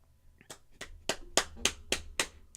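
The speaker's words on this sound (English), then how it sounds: "That's the sound of me clapping you." Hands clap seven times in a steady, evenly spaced rhythm, sharp and close, getting slightly louder after the first few, with no talking.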